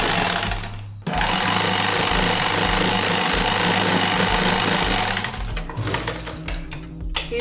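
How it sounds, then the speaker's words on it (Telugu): Sewing machine stitching thread for a designer dori, a fast steady mechanical whirr running close and loud for several seconds, then slowing and stopping. "ఈ విధంగా మనకి ఎంత థ్రెడ్ అవసరం అవుతుందో అంత థ్రెడ్ని కుట్టుకోవాలి."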